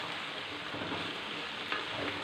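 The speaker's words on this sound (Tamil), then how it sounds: "இந்த காயை நல்லா எண்ணெயில் இப்படி வணக்கி விட்டுட்டு" Vegetables sautéing in oil in a pan, a steady soft sizzle with faint stirring, heard alone without talk.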